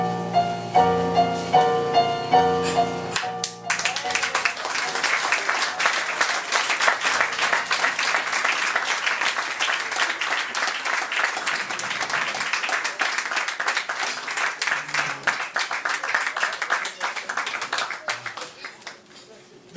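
Dense, steady applause fills a hall after a piano-accompanied French vocal recital, breaking in over the closing notes of the song and continuing loud and sustained to the end.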